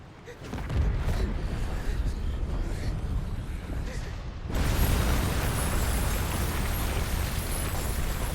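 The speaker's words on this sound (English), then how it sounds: "It's like the volcano's exploding" A volcano erupts in the video game Final Fantasy XVI: a deep, continuous rumbling roar that jumps abruptly halfway through into a louder, harsher blast that keeps thundering to the end.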